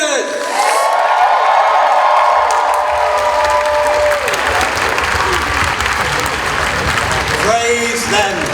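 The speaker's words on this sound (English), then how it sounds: "applause for our 3 winners" An audience at an anime convention awards ceremony breaks into loud, sustained applause for three winners, with whoops and cheers mixed in. A voice speaks over the clapping near the start and again at the end.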